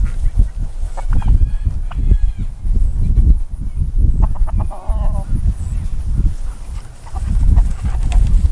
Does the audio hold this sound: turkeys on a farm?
yes